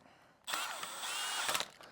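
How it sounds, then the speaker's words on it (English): A power drill snugs up a screw while an electrical outlet is being mounted: quiet at first, then a close, steady whirring burst about a second and a half long ending with a brief ratcheting stutter. "Always just snug it up with the drill."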